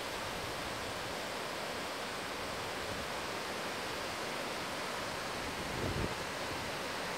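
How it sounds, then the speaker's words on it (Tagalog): Strong typhoon wind in South Korea, a dense, constant roar of rushing air buffeting the microphone with no let-up, loud and broadband, with a brief heavier gust near the end. "Yung hangin lang talaga, grabe."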